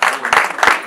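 A brief burst of guests' applause at a Rwandan wedding, close and loud, with dense clapping that swells twice in under a second.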